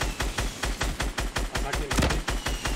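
Rapid automatic gunfire in Fortnite Battle Royale rattles in a steady burst of evenly spaced, loud shots throughout, with a brief heavier impact near the end.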